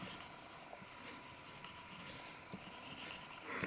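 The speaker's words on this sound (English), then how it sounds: "If you keep writing in the same manner and don't move the pencil, the writing will gradually become thicker" Pencil lead writing on paper, faint close scratching strokes in a quiet, irregular rhythm of short scribbles, with no talking.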